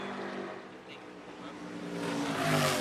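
A NASCAR race car engine drones steadily at a distance during practice at Iowa, rising toward the end, with broadcast commentary talking over it.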